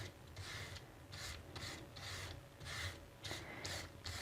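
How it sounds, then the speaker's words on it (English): Sandpaper lightly rubbed over foil cardstock in about eight short rhythmic back-and-forth strokes, a soft close scratchy rasp with no talking. "and just sand lightly a couple of times over it"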